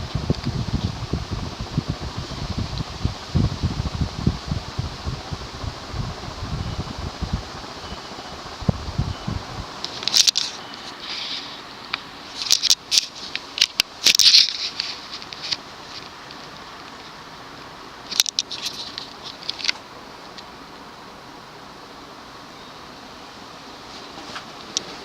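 A Southern Breeze (Union) 36-inch four-blade industrial ceiling fan runs with a soft airy whir, rough and buffeting at first, then quieter, broken by occasional sharp clicks and knocks.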